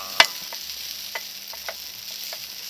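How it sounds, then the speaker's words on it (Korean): Instant rice being stir-fried into fried rice at a winter camping site, with scattered scraping stir strokes and a faint background sizzle, heard close up with no talking. "여러분은 즉석밥 어떻게 볶나요? 데워서 볶는다? 그냥 볶는다."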